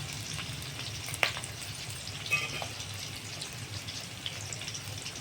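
Onions fry in a pan for mutton paya curry, giving off a steady close sizzle with a couple of soft clinks of stirring.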